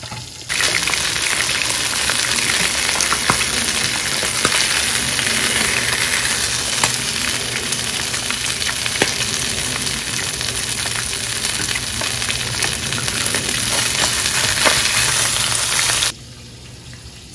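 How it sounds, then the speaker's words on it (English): Tilapia fries in a pan, giving a loud, steady crackling sizzle that runs without a break for about fifteen seconds and then cuts off abruptly. "So if you hear any sizzling,"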